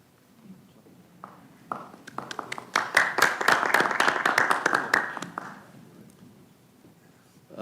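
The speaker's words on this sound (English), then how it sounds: "not often people get a clap when they leave the room" A meeting room breaks into applause for visiting police officers as they leave, building from a few scattered claps to a brief, moderate round of clapping that then fades out.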